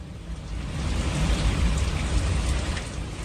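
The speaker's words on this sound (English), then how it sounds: "That is some thunder." A thunderstorm during tornado coverage brings dense, steady rain on surfaces with a low, continuous rumble of thunder underneath, moderately loud and unbroken, with no talking.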